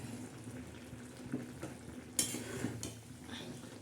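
Cracked whole eggs cook in a spicy egg curry in a pan, a soft, quiet sizzle under a steady hum, with a sharp clink of a utensil partway through as the eggs are turned.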